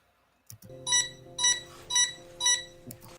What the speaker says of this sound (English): And what's that beeping for?